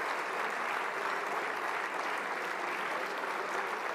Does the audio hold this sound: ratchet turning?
no